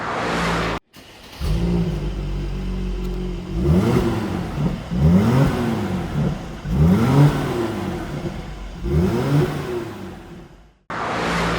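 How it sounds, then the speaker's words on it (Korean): A 2018 Mercedes-Benz SLC43 AMG's exhaust revs repeatedly in loud bursts, each rising and falling sharply, with brief pauses between, close by. "배기음 듣고 자세한 차량 설명 드릴게요"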